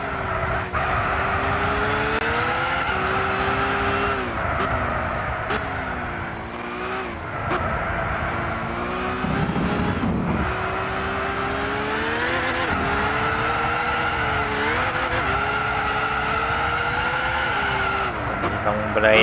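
Race car in Gran Turismo 6 braking on a wet, slippery track, with a steady engine drone and repeated tire squeals and skids rising and falling over time, as a voice talks over it.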